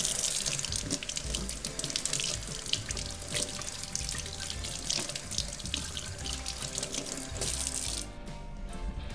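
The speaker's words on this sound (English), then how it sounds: "Now, let's wash it with water." Water from a tap running steadily into a sink while hands are washed to remove glitter, with splashing and rinsing close by, ending with a brief change in the flow.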